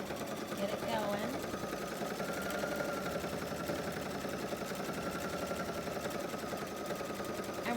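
A sewing machine stitches fabric with a steady, rapid mechanical chatter and motor hum, running continuously at close range while a voice talks over it.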